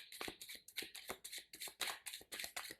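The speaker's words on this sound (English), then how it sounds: "I'll give the deck some more shuffle." A deck of playing cards being shuffled overhand during a card trick, a quick, steady series of crisp riffling bursts, close and clear with no talking.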